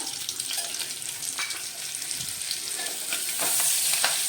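Red chilli powder and garam masala roast in hot oil for a spicy katachi amti, giving a steady, close sizzle on its own with small crackles throughout.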